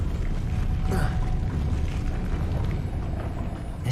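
Depulso spell cast in Hogwarts Legacy: a dense, rumbling mechanical whoosh with creaking and a brief bright burst near the start, sustained at steady loudness throughout.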